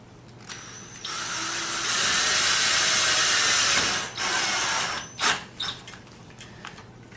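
A power driver runs a self-tapping screw into a kit for about three seconds, a loud whirring grind up close, followed by a few short bursts of the driver as the screw seats.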